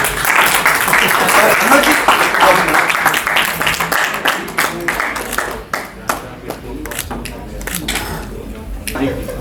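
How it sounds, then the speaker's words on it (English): Applause at a business networking meeting, a dense burst of many hands clapping loudly that thins into scattered claps over several seconds, with voices in the room. "big round of applause"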